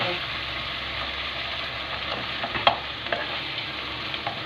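Pepper paste stirred into fried minced meat in a pan, a continuous frying hiss with scraping spoon strokes and small clinks standing out midway, no talking.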